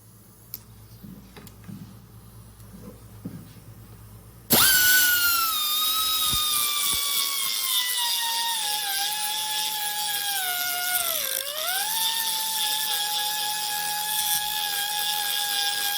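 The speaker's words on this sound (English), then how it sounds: "I'm gonna have to grind this rivet out." High-speed rotary grinder working on a rivet in a vent window from a 1972 GMC Jimmy, starting abruptly after quiet handling noises into a loud, sustained whine that dips briefly under load before recovering.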